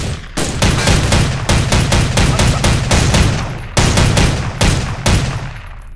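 Sustained automatic gunfire in the video game Soldier of Fortune II: Double Helix, long loud bursts of rapid machine-gun shots with brief gaps between them, close and harsh.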